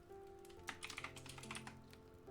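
Soft keyboard typing recorded as an ASMR trigger with a binaural microphone, quiet and close, a steady patter of quick key clicks with a faint background hum.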